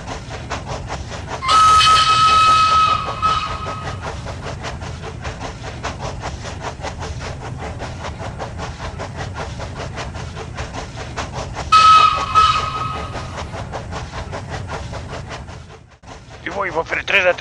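Train 505 rumbling steadily along the rails with a rhythmic clatter, sounding two sharp whistle blasts, one near the start and another toward the end, close and loud over the running noise.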